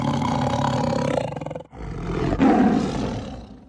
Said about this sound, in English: That sounds like a tiger.